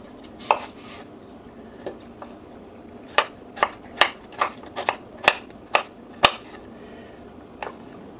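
A knife chops an onion on a board in a home kitchen: about a dozen crisp, separate cuts at an uneven pace, close by, with short pauses between bursts.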